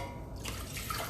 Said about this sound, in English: And I can drain out my delicious beans.